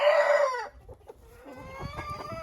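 Ameraucana and Maran hens outdoors in first sunshine: a loud crow-like call in the first half second, then softer clucking and low murmurs from the flock nearby.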